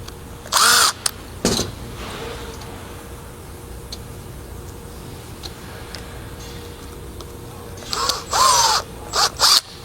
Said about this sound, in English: This time I have a power tool.